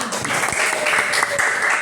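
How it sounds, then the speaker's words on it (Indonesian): Classmates applaud together in a school classroom during a coding and artificial intelligence lesson, a short, dense burst of clapping lasting under two seconds. "Beri tepuk tangan untuk kalian semua."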